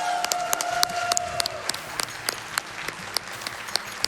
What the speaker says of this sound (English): the crowd can give a huge round of applause for the tech crew